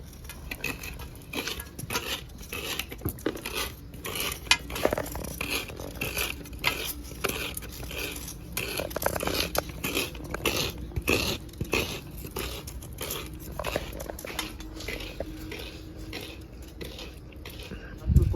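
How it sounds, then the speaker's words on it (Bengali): A knife slices jaggery into thin pieces, giving a quick run of small crisp cutting and tapping sounds that repeat close up at a moderate, uneven pace. "আমি চাকু দিয়ে পাতলা পাতলা কেটে নেবো"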